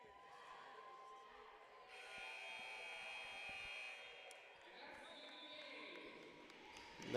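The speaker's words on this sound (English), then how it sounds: "That's the final buzzer here" Final horn sounding at the end of a college men's basketball game at the Schwartz Center, a sustained buzz lasting a couple of seconds over a noisy arena crowd.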